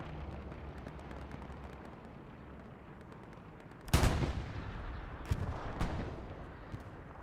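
A heavy artillery blast erupts midway through a World War II style multiplayer shooter, with a broad booming crack followed by a few fainter distant thumps over low battlefield ambience.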